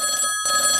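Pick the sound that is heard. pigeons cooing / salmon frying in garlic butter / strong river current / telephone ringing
telephone ringing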